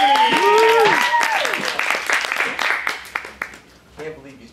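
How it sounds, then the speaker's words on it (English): An audience gives an improv comedy performer a round of applause, clapping steadily throughout while several voices talk and call out over it, the clapping thinning toward the end. "after a round of applause"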